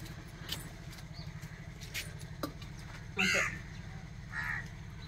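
Crows cawing on a rooftop terrace of a house, two short harsh caws a second apart, fairly close, over a low steady hum and faint background noise.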